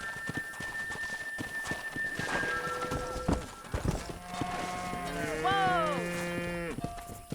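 Cattle herd lowing in a Western video game, several drawn-out moos rising and overlapping near the end, mixed with horse clip-clop and ambient range noise, a brief shout heard early.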